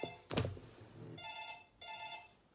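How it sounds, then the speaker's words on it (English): A house telephone rings indoors in two distinct electronic trill bursts, moderately loud and alone, following a single thump. "My house phone is ringing."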